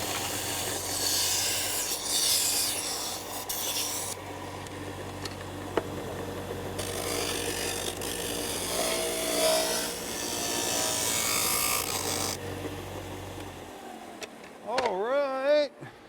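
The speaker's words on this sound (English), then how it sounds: "Now this benchtop sander has 80 grit abrasive on it, and believe it or not, after you use it for a bit, you get a super smooth finish" A benchtop sander fitted with 80 grit abrasive works wooden picnic basket parts, a steady broadband rubbing hiss that runs for most of the stretch and fades near the end.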